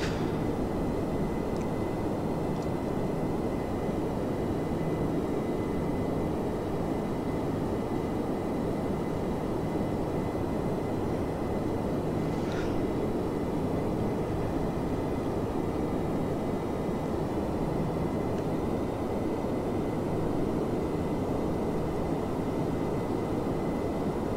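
Steady, even roar of a simulated Boeing 747-400 climbing out of New York after departure in FSX, with jet engine noise droning without break for the whole stretch.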